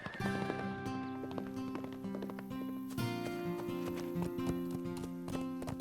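Horse hooves clop in a quick, steady rhythm over sustained musical tones that play throughout, in an animated cartoon.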